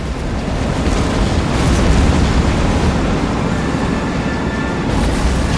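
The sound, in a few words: explosion in the video game The Saboteur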